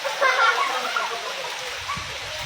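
Pre-monsoon rain falls outdoors in Kankavli, Konkan, as a steady broadband wash of drops with a brief splashy swell early on. It is heard alone at moderate loudness.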